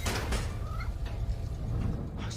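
A cat meows in the video game Spider-Man: Miles Morales, a couple of short mewing calls over a thick low game ambience, with a faint scrape or door-like noise nearby.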